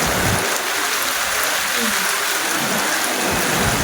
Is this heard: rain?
yes